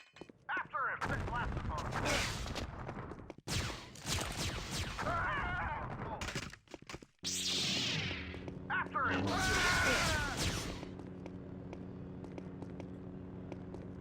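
Gunfire from the Star Wars Jedi Knight: Dark Forces II shooter, loud and dense, with repeated sharp shots piling into near-continuous volleys. There are brief pauses, then a heavy crash-like burst that trails into a sustained roar.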